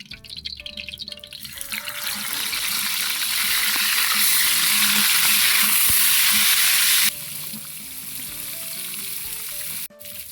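Catfish frying in hot oil in a pan makes a loud, continuous sizzle that swells and crackles, then drops a little in level toward the end, with a brief clunk near the close and no talk.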